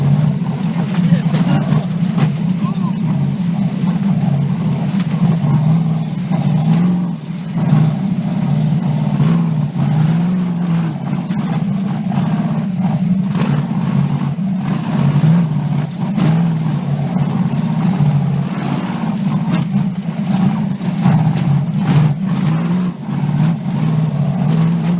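V8 off-road buggies roaring with a deep, sustained engine drone heard from a distance, steady throughout and swelling slightly as they accelerate, with faint crowd sounds in the background.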